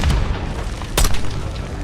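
A mortar shell explodes in the Call of Duty Black Ops 6 video game, one heavy booming blast in the middle of a dense, rumbling battlefield din.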